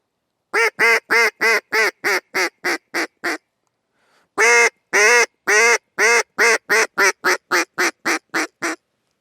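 Loud, rapid series of nasal quacks from a duck call, about ten evenly spaced notes, a brief pause, then another fast run of quacks.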